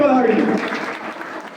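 Applause from an audience welcoming about 300 young Koli community activists joining a party at a political rally, a dense steady patter of clapping lasting throughout, with crowd voices mixed in.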